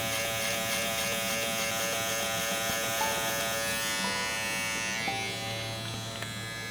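Electric hair clippers fitted with a number 1 guard buzz continuously and loudly at close range, the pitch shifting slightly as they cut through hair during a taper.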